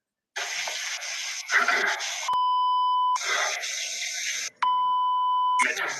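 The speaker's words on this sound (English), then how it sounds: "They beeping out the cuss words." Two long flat censor beeps cut over muffled, tinny speech, each tone holding steady for about a second before the talking resumes.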